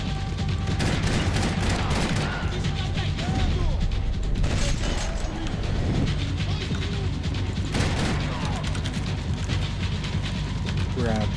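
Pistol gunfire in Max Payne 3 during a New York Minute hardcore level, with loud, rapid bursts of shots over dense action noise and explosions, heard alone without talk.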